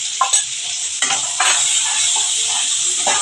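Spices and ginger paste fry in a hot pan, a bright continuous sizzle punctuated by a few sharp stirring scrapes and clatters near the start and middle.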